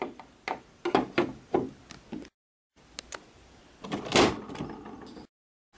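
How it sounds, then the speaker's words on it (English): A door slams and bangs several times, sharp loud knocks and thuds in an indoor room, with a heavier crash later and short silent gaps between. "Oh, he sure does need to stop slamming that door."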